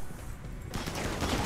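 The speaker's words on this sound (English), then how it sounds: "I can't stop them firing" Colonists' gunfire in the colony-management game RimWorld, a dense burst of shots that breaks out about halfway through and keeps rattling to the end, loud and close with no talk over it.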